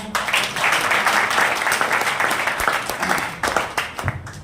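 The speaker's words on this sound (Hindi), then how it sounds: "तो एक बार तालियां हो जाएं" Applause from the audience at a leadership training session in Satna, Madhya Pradesh, after a new team coordinator title is announced. The clapping is dense and sustained, then thins toward the end with a few scattered claps.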